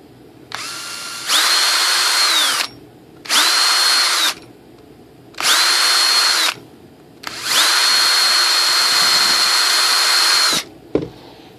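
Power drill boring holes in a composite sailplane part, running in four separate bursts of steady high whine, each spinning up and winding down, the last burst longest, close and loud with short pauses between.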